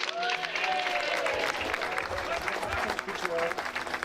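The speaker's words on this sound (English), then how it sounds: "a big cheer for Matt and all his staff" An audience cheers and claps at a 25th anniversary celebration for the Trust Links charity, a dense, sustained wash of applause with some whoops, fairly close and loud throughout the few seconds.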